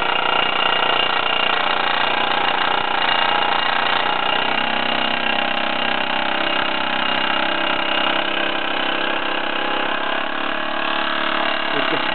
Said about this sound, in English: The throttle on these tends to unwind and the engine runs away with itself